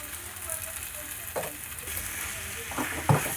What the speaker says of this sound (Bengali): আদা রসুনটা দিয়েছি, তার দরুন আমাকে একটু কষাতে লাগবে